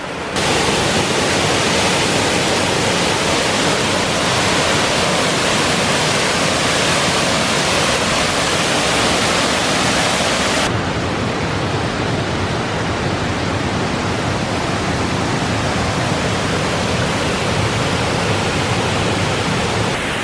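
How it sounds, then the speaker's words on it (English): A steady, loud roar of a waterfall in Dean Village, Edinburgh fills the whole clip, broadband and constant, with a slight change in tone partway through. "I'm kind of up the opposite side of the waterfall"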